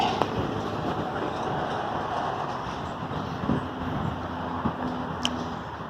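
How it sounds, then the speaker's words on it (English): Steady suburban road traffic hums in the background, with cars passing at a distance in a continuous low wash and a few slightly louder swells along the way. "you always hear the cars in the background"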